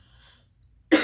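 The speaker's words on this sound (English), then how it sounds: "Sorry guys if I cough throughout the video" A single sharp cough from a woman just recovering from a fever and cold bursts out near the end after a quiet stretch, loud and close with a harsh, throaty onset.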